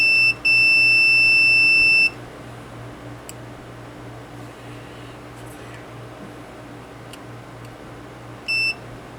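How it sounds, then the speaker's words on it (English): A continuity tester beeps as probes touch points on a Game Boy Color circuit board, giving a long steady high-pitched tone, a pause with faint clicks, then a short second beep over a quiet bench hum. "That should just straight up beep."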